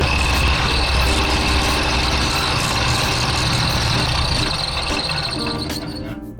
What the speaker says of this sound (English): now we're here at the disc sander and we're just gonna sand it down